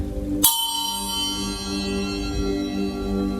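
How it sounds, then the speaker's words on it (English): A single bright strike sets metal chimes ringing, their clear tones lingering and slowly fading over a faint background hum. "And I have some chimes here,"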